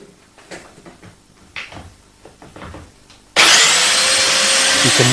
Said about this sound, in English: And drill as before.